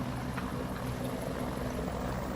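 A helicopter in the Aeronautica game climbs straight up with the collective raised, its rotor and engine giving a steady, loud, unbroken drone with no voices.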